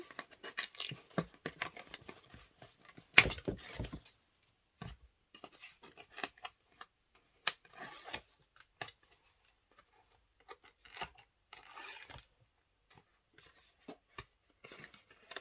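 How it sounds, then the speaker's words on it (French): Sticky tape is pulled off a surface in short, quiet rips and crackles, irregular bursts separated by brief pauses, close by and soft. "Je suis tranquille pour lever tous mes scotch"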